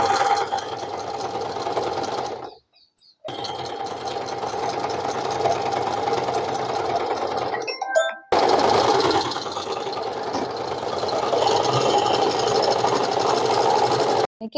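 An Usha Dream Stitch sewing machine stitches in loud, rapid mechanical bursts, pausing twice briefly between runs of steady, whirring needle action, with no talking over it.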